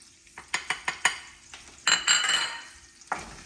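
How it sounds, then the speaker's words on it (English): Sausage fries in hot grease with a brief crackling sizzle, set among several sharp clinks and scrapes of a utensil against the pan while making country sausage gravy. "You can see here that it is frying, it's bubbling."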